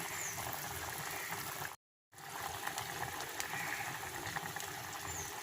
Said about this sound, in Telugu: మసాలా వేసుకొని ఈ కొంచెం వాటర్ కూడా అయిపోయేంత వరకు ఉడికించుకుందాం